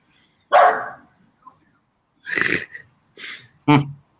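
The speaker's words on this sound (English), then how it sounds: "That's the neighbor's dog." A neighbor's dog barks several times nearby, in short, uneven bursts with brief quiet gaps between them.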